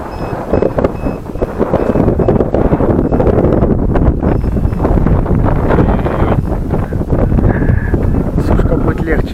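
Strong wind buffets the microphone at a model airplane airfield during takeoff and landing practice with a Focke-Wulf model, a steady broadband roar running throughout while people talk over it.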